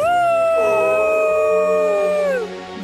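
A wolf in a PAW Patrol cartoon lets out one long, loud howl that holds a steady pitch before sliding down and fading at the end.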